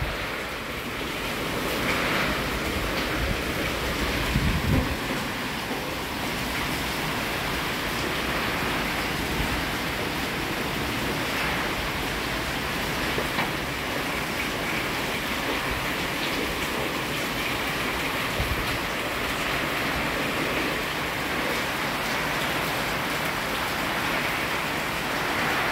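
Strong typhoon wind and heavy rain roar without a break at night during a storm, a dense, loud wash of gusting air and pouring water with occasional thuds and no voices.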